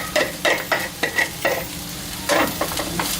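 Rice and beaten egg for shrimp fried rice are stir-fried in a hot pan, with a spatula scraping and tossing in quick repeated strokes over a continuous close sizzle.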